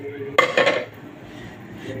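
A brief metallic clatter and thick pour as blender-mixed semolina batter hits a metal baking tray, followed by quieter scraping and low room noise.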